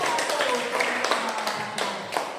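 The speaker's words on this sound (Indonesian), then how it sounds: "tepuk tangan untuk kelompok 1" Students in a classroom clapping for a group after its presentation, a quick run of scattered claps that blend into a short burst, close by with some voices mixed in.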